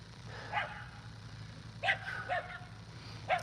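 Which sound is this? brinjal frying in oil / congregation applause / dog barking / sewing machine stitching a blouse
dog barking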